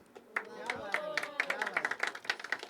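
Applause from a poetry open mic audience after a poem, scattered individual claps building into quick uneven clapping from a small crowd at moderate distance, with some talk underneath.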